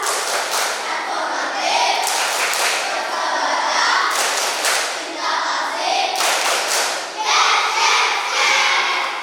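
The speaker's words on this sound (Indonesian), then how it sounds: "Sekali lagi, tepuk maritas." Fourth-grade pupils repeat the tepuk maritas clapping routine in a classroom, loud close bursts of many hands striking in a set rhythm, mixed with the children's chanting voices.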